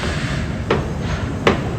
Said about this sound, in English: Drilling, pounding, construction.